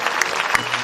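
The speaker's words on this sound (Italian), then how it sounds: "E anche per te ci saranno gli applausi di questo splendido pubblico" Applause from the crowd in the grandstand at the Sardegna Cavalli horse show in Oristano, a steady dense clatter of many hands, fairly loud and close, with no speech over it.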